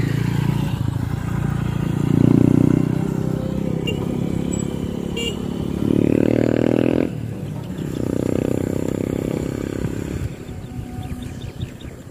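A motorcycle approaches from behind a cyclist on a provincial road in Tarlac, Philippines. Its engine drone swells and fades in several surges over steady wind and road noise.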